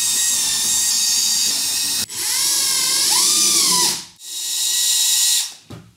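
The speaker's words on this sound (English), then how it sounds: "what I'm gonna be doing is re-tapping these holes." A power tool drives a 1/4-28 tap to re-thread holes during a fan install in a shed, a loud high whine in bursts that rises and falls in pitch, with brief stops between runs.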